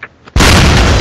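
Explosive charges detonate in the military shooter game Socom Fireteam Bravo 3, a sudden loud blast after a short quiet moment, followed by a sustained roaring boom that fills the rest of the moment.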